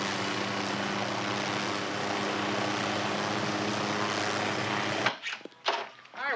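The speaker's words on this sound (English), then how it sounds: "That's why he got the chopper." Helicopter rotor noise roars loud and steady for about five seconds, with tonal engine whine and broad wash, then cuts off abruptly to near quiet with a few brief sounds.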